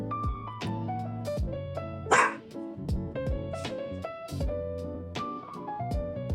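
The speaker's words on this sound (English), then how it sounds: "don't know if you can hear Weasley barking, but he's pretty fed up with all the baking" A dog barks several times amid a busy mix of other sounds, the barks fairly close and sharp.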